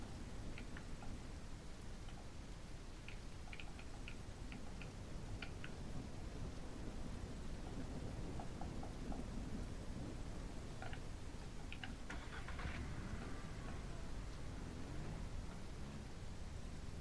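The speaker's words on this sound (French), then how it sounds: "La pluie, la pluie, la pluie." Steady rain hisses throughout with low thunder rumbling beneath in Ranch Simulator, and scattered faint ticking sounds come and go over the downpour.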